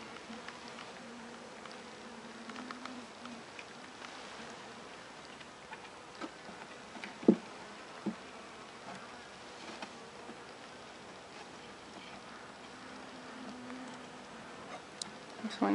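Inside a dying honeybee hive, a soft, steady bee hum fills the background, with a faint thin tonal piping and occasional small ticks and knocks.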